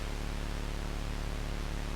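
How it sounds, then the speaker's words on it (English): Steady white noise blended with a very low oscillator pitch, a flat continuous hiss over a faint low tone, unchanging for the whole stretch. "a combination of just like a really low oscillator pitch with some white noise"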